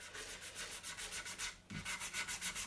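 Rhythmic hand sanding and scraping on the wooden volute of an acoustic guitar neck with scraping blades and sanding blocks, close and steady, with regular back-and-forth strokes and one brief pause.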